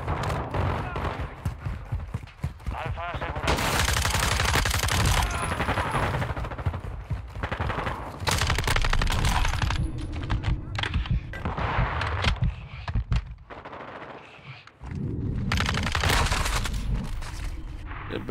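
Rapid bursts of gunfire in the GTA video game, loud and repeated in dense volleys with short pauses, with someone talking over the shooting.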